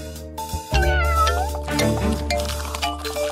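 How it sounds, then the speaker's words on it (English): A cat meows close and loud in a drawn-out, wavering cry, then gives softer follow-up mews over a steady low hum. "Oh, won't someone save this cat?"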